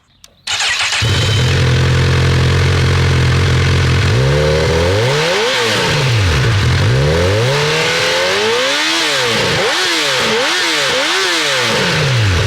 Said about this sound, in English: let's do the obligatory sound test, as I know YouTube loves a sound test, and so do I. Fire up, see what it sounds like.